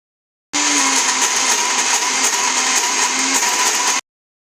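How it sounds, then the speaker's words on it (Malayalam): An electric mixer grinder whirs loudly and steadily for a few seconds, grinding coconut with chili and coriander powder, then stops abruptly. "തേങ്ങ നമുക്ക് മിക്സിയിലിട്ട് ഇത് ഫുള്ളെല്ലാം കൂടെ അടിച്ചിട്ട് വരാം"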